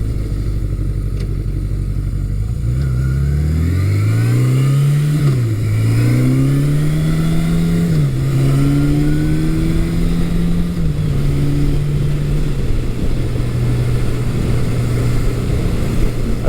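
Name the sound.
1982 Suzuki GS750E motorcycle engine running on a test ride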